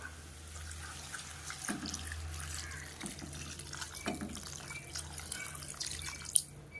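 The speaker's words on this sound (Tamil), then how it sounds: "கொஞ்சமாக தண்ணி ஊற்றிக்கலாம்" A soft, splashy trickle of water poured into a pan of pork curry gravy, fairly quiet over a low steady hum, with a few small clinks.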